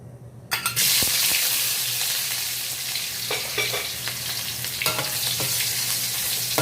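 Pork belly drops into a hot pan and bursts into loud, steady sizzling that continues close up, with a few faint clinks and scrapes, while cooking stir-fried long eggplant with soybean paste.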